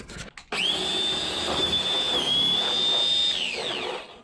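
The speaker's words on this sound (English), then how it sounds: "we're gonna test this electric snow shovel from ENHULK and see how it handles this" An ENHULK 20V cordless electric snow shovel runs steadily for about three seconds while clearing wet snow, giving a loud, close motor whine with a high tone that dips briefly and then settles before cutting off.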